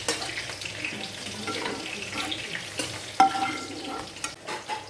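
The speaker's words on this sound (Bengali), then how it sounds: "এবার এগুলোকে একটু ঘিয়ে ভেজে তুলে নিচ্ছি।" Cashews and dried fruit frying in ghee in a pan, a soft steady sizzle with spoon stirring and scraping throughout and one sharper clink near the end, close and fairly quiet with no talking.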